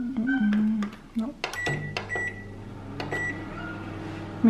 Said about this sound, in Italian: nel microonde.